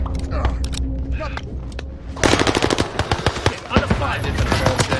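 Rapid automatic gunfire in the shooter game Call of Duty Warzone, with dense bursts of loud, close shots crackling in fast rhythm after a quieter opening stretch, a voice speaking briefly beneath.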